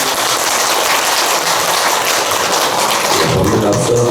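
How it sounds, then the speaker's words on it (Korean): Applause from a temple audience welcoming a Buddhist monk before his dharma talk, a dense, steady wash of many hands clapping together that swells slightly near the end. "그러니까 박수 한번 드리고"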